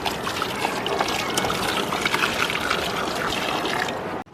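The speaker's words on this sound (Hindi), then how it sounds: "हमें इस तरीके से पानी देना है कि हम जो पानी दे रहे हैं वो पूरे लीव्स को अच्छे से वॉश कर दें" Water pours steadily over the leaves of a potted rose plant in summer, a continuous close splashing trickle with no talk, stopping abruptly at the end.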